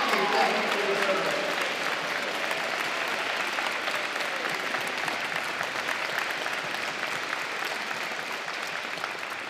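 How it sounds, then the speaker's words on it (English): Audience applauding seniors at a high school year-end concert: dense, sustained clapping from a full crowd that carries through the whole stretch and tapers slightly toward the end. "all of you stand up for one more quick round of applause."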